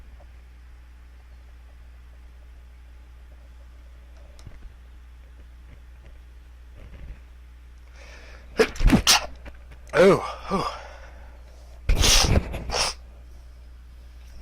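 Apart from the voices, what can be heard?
big sneeze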